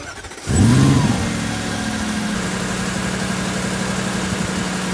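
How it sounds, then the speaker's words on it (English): A 2023 Audi RS Q8's 600 hp four-liter twin-turbo V8 fires up with a loud starter whir and a quick rev flare, then settles into a deep, steady, rumbling idle, heard close and alone. "This is that modern 4-liter twin turbo engine, and it's monster."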